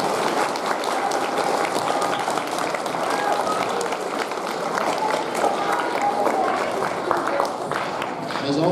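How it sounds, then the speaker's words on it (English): Steady, dense applause from an audience at an opening ceremony, loud and continuous throughout with a crowd-filled texture and no break. "Let's give her a round of applause"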